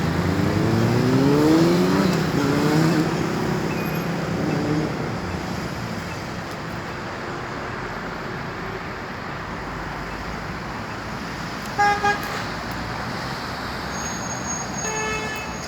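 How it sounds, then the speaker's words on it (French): Dense road traffic on a Brussels street: a steady wash of passing cars with a louder vehicle rumbling close by early on, then a continuous roar and a brief double horn toot near the end. "Le trafic est de plus en plus dense."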